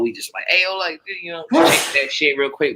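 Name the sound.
sneeze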